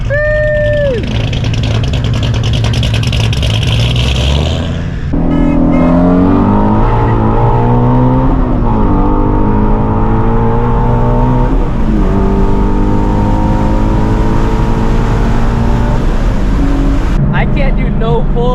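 A Ford Mustang Shelby GT350's V8 engine revs hard and close, climbing through repeated rising pulls with a loud, raspy exhaust and brief drops between them, with talking at the start.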